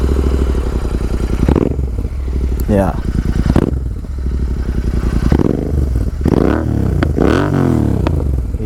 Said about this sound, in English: And this is how the Red Rooster sounds.